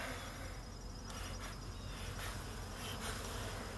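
Honeybees swarm around a hive just after being smoked, a dense, continuous buzzing drone close by with occasional louder bees passing near, steady throughout with no talking.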